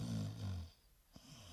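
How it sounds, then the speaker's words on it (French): Prison guard snoring as a story sound effect, one deep, rumbling snore drawn in on a long inhale, then a quiet pause and a small snort, heard alone and fairly soft. "Le gardien de la prison est en train de ronfler."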